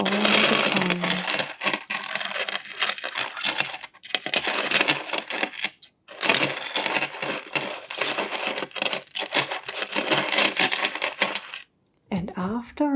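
Coins clink, rattle and tumble through a counting machine in a steady cascade of close metallic jingles, broken by a few brief pauses and ending with a louder clatter.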